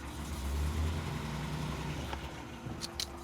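A car with a failed transmission strains in reverse, its engine giving a steady low drone that swells early on, then eases off, ending with a few light clicks.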